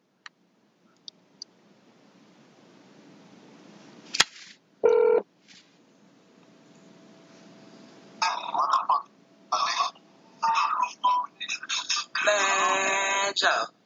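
A telephone call plays out: clicking and tones as a number is dialed, then a burst of ringing tones at the end, with a voice heard briefly partway through.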